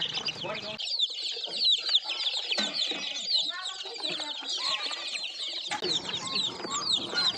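Several chickens cluck and squawk busily up close, overlapping calls in a continuous chatter with brief rustling underneath.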